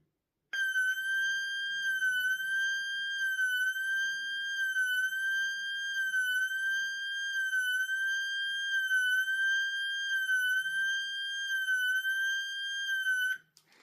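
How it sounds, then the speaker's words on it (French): A Cofrel intrusion alarm siren under test blares a loud, piercing, steady high tone with a slight regular warble, running continuously for about thirteen seconds before cutting off abruptly. "donc comme vous l'avez entendu, c'est une sirène d'alarme intrusion"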